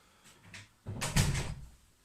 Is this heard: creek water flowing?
no